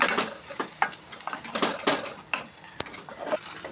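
Pirandai chutney sautés in oil in a pan, with a soft sizzle broken by frequent spoon-on-pan scrapes and clinks in an uneven stirring rhythm, close and fairly quiet.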